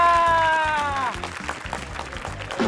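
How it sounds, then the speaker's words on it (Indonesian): Applause breaks out on a food TV show as a renovated eatery is revealed, a short burst of clapping following a sustained tonal sound, over rhythmic background music. "Wih, tepuk tangannya."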